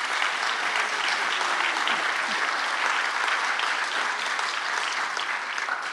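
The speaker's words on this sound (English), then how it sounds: "So please, another round of applause." A debate audience breaks into sustained applause, an even, dense wash of clapping from a large crowd that stays uniformly strong from start to finish.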